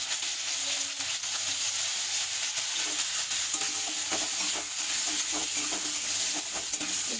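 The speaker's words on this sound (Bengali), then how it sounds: "আলুগুলো লাল লাল করে ভেজে নেবো।" Potatoes fry with turmeric in a home kitchen, a steady bright sizzle with occasional stirring scrapes close by and no talk.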